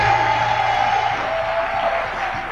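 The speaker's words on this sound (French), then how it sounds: "On peut applaudir le Seigneur." A church congregation applauds during a Sunday worship service, a dense, steady wash of clapping that carries on without a break for the whole stretch.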